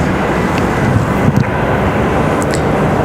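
A Southwest Boeing 737 airliner moves at Raleigh-Durham International Airport, its engines giving a loud, steady roar that fills the air without a break, with no talking.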